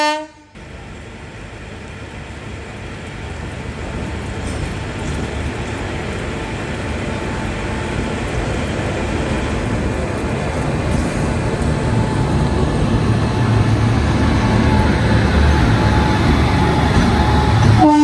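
Goods train passing through Erode station, a long continuous rumble of wagons that swells steadily over about eighteen seconds, with a brief horn tone at the start; no talking.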